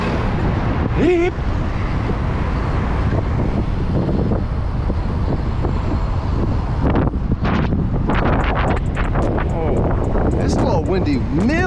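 Strong wind buffets the microphone in a constant roar, with brief voices and passing traffic noise mixed in.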